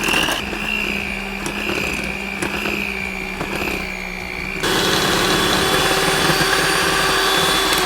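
An electric mixer whirs steadily as it beats cocoa powder into softened butter for chocolate cupcake frosting, a loud continuous motor drone that shifts up to a harsher, higher-speed whine partway through.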